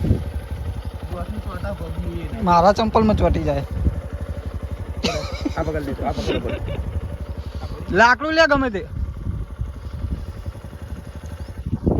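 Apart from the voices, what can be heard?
motorcycle engine, bike stuck in sticky mud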